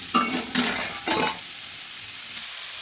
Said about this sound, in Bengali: ভালোভাবে নেড়ে মিশিয়ে দিচ্ছি